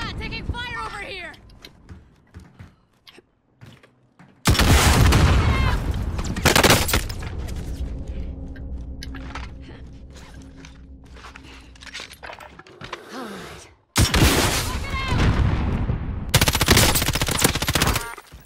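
Automatic gunfire in Call of Duty: Warzone, with a Kilo Class rifle in use: loud, rapid bursts of rifle fire that come in separate volleys and then stop, with players talking between and over the shots.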